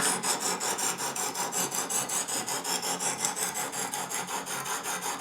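A Lansky deluxe sharpening system hone rubs back and forth along a knife edge in quick, even strokes, a close, rhythmic gritty rasp that repeats about four times a second with no talking.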